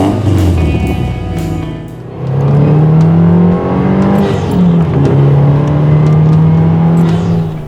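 A turbocharged 2.5-litre Subaru engine revs in a loud, steady drone, its pitch dipping and then climbing again as the throttle opens, with no voices.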